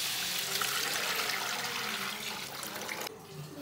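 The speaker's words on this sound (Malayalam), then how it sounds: "വെള്ളം ഒഴിച്ച് കൊടുക്കാൻ കേട്ടോ" Water is poured into a cooking pot for biryani rice as a steady, close rushing stream lasting about three seconds. It then cuts off to a quieter background.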